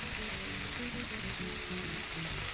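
Beef searing in a hot pan, browning on one side, with a steady, dense sizzle of frying throughout and no talking.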